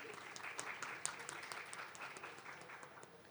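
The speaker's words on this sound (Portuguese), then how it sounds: "salva de palmas para Juliana." Applause from an audience greeting a speaker at a panel on diversity policies, a soft, even wash of many clapping hands, fairly distant and quiet, with no one talking over it.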